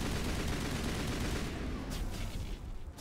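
Rapid, dense gunfire from the video game Mass Effect Legendary Edition fills the whole stretch, loud and continuous, thinning slightly toward the end.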